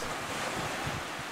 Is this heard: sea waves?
yes